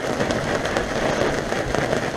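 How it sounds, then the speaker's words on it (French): Steady rain patters densely on surfaces at the Calanques de Cassis, a close, even hiss with small irregular taps throughout. "Bon bah même ici il pleut."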